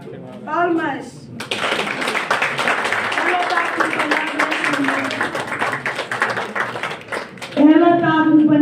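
Audience applause at a journalism graduation ceremony for the first graduates at CMICS, a dense sustained wave of clapping lasting about six seconds, bracketed by a presenter talking over a microphone before and after.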